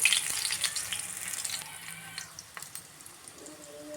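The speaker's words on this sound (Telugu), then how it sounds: "ఆయిల్ బాగా హీట్ అయ్యాక వెల్లుల్లి వేసేసుకోవాలండి" Garlic hits well-heated oil, bursting into a loud hissing sizzle that gradually settles into steady crackling with scattered pops.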